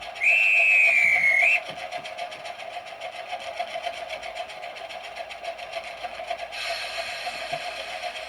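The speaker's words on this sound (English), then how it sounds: "And then we've got the guard's whistle," A model train's guard's whistle sound effect, from a Bachmann Class 205 DEMU 'Thumper' unit: a shrill, sustained blast lasting about a second and a half, followed by a constant mechanical hum and faint ticking.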